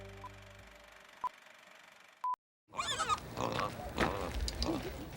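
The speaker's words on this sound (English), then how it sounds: "we return to Shakespeare with Hamlet, a Vietnamese pot-bellied pig from the vault." A Vietnamese pot-bellied pig grunts and snuffles in short, irregular bursts at close range for a few seconds, after a quieter stretch of faint background noise and a couple of brief tones.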